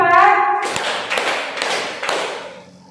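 Four or five distinct hand claps land at an even pace in a classroom counting exercise, fairly close, mixed with brief voices.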